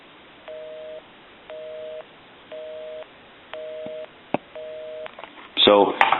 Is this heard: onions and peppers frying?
no